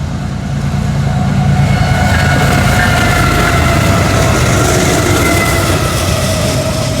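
Train 8100 rolls past at night near a hospital under streetlights, a steady loud rumble of wheels and cars with a faint tonal whine on top, unbroken throughout.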